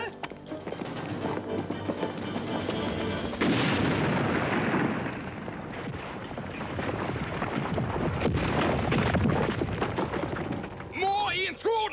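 Cartoon grenade blast in an animated action scene: a sustained, loud roaring rumble with crackling debris that swells around a third of the way in and fills most of the stretch, with a brief voice near the end.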